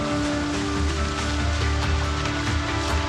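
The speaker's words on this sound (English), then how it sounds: "Well, it is rainy" Steady rain falls in the Project Zomboid video game, a dense, even wash of droplets that holds at a constant level throughout with no talking.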